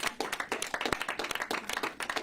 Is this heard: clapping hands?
yes